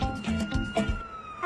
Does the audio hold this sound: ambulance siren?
yes